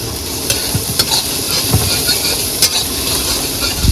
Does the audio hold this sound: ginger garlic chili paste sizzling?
yes